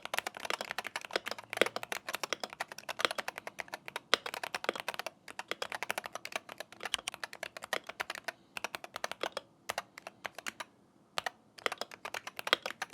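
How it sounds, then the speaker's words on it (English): Rapid, steady clacking of Wooting 60HE mechanical keyboard keys, close up, continuing for several seconds with a few brief pauses. "It sounds more like a gaming keyboard"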